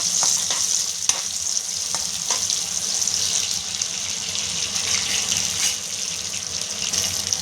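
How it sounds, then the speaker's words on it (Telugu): Thickly chopped onions sizzle steadily in hot oil while being stirred, with a close, continuous crackling fry and light scraping of the spoon against the pan. "లావుగా తరిగిన ఈ ఉల్లిపాయలు అనేది వేసుకోవాలి"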